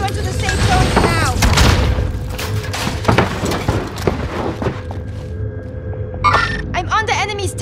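Frag grenade explosion and gunfire in a PS5 battle royale game, heavy booms and bursts of shots rolling through the mix under in-game radio voices.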